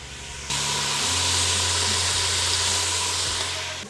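Loud, continuous hissing steam rises suddenly over kitchen cooking and holds steady, with a low hum beneath and no voices.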